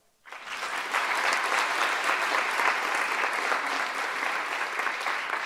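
A crowd bursts into warm, steady applause at a regional sports laureate awards evening, the clapping starting suddenly and holding full and loud throughout without any voices on top.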